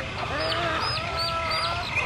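A lost domestic chick separated from its mother hen peeps in repeated thin, high chirps over a steady background noise, with other fowl clucking around it.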